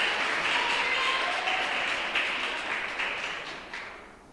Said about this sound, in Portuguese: Você pode aplaudir o Deus eterno?